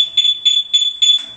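A motorcycle anti-theft alarm sounds four loud, close, shrill electronic beeps in an even rhythm, followed by a brief change in tone at the end.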